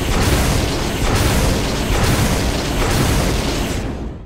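Rocket launcher blast in the Resident Evil REmake, a loud, sustained roaring explosion that stays dense for about four seconds before cutting off sharply.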